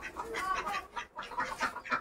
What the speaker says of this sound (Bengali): এই যে সব হাঁস মুরগি আরও আছে।